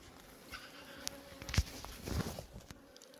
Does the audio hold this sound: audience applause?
no